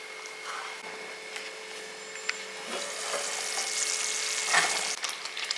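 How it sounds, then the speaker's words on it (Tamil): A pan of curry bubbles and sizzles steadily as it simmers, with soft crackling and occasional stirring clinks close by; no one speaks. "இது சிம்மிலே வச்சு நல்லா ஒரு பத்து நிமிஷம் கொதிக்க விட்டிங்கன்னா"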